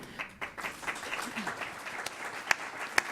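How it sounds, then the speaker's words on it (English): An audience applauds at an immigration-themed talk, a steady patter of clapping from a crowd that carries on through the clip with a few sharp, close claps near the end. "the applause is appreciated, but we need more than that"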